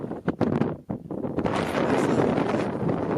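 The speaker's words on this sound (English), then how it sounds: "probably can't hear me over the wind noise now" Strong wind buffets the microphone outdoors near a parked vehicle, with a few sharp gusts at first, then a loud, steady roar that covers everything.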